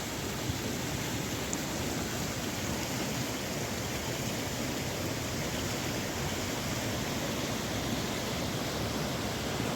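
Union Creek rushing with snow runoff at a campsite, a steady broadband roar of fast water that stays loud and unbroken throughout, with no voices.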